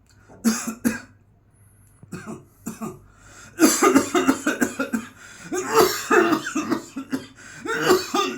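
Repeated coughing and throat-clearing sounds performed as a throat exercise demonstration, several close, loud bursts separated by short pauses, growing denser and more forceful toward the end.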